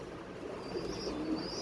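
Pigeons kept in a breeding loft coo softly and at a distance, with low murmuring calls over a steady background hiss and no speech.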